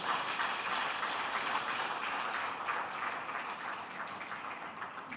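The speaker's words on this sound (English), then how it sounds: "I think that deserves a round of applause." Steady crowd applause at a Lagos State public service event on transformation, creativity and innovation, a dense continuous patter of many hands that holds evenly throughout with no voices over it.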